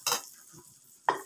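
Margarine hitting a hot pan for buttered beans and broccoli, heard as two short bursts of sizzling about a second apart, close and fairly quiet.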